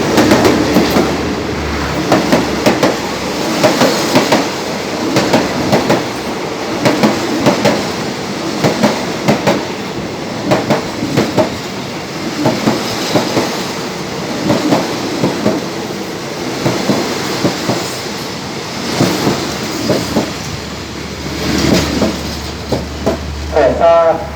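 Express train 67, hauled by locomotive GEA 4549, rolls into a Thai railway station platform with continuous loud rumbling and rhythmic clickety-clack of wheels over rail joints, while voices speak throughout.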